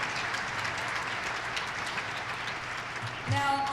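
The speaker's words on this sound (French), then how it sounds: "applaudissons tous ceux qui sont sur le podium" An audience at a Canadian Cancer Society event applauds the people on a podium, a moderate, steady spread of clapping that swells slightly louder near the end.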